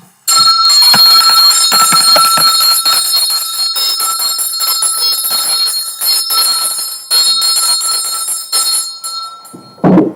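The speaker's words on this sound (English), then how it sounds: "Let's ring the bell." A bell rings repeatedly with bright, sustained metallic tones that ring on and overlap for about ten seconds, loud and close, before fading near the end.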